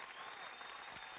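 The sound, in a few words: audience applause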